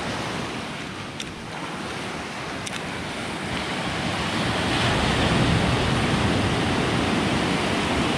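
Ocean waves surge and wash steadily along a rocky shore at high tide, a continuous broadband roar that swells louder partway through, with wind buffeting the microphone and no voices.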